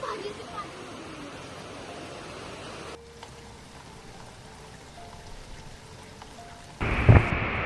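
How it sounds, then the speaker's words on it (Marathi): Heavy monsoon rain during a thunderstorm makes a steady hiss for several seconds. A sudden loud, booming burst follows near the end, and voices are present in the background. "आता पाऊस बघ किती जोरात पडतोय"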